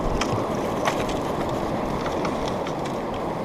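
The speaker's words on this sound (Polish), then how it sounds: "Liczyliśmy oczywiście na łowienie na suchara, ale trochę wieje." Wind gusts across the microphone beside a river during a spring fly fishing trip, making a constant close rumble and buffeting with a few brief higher rustles.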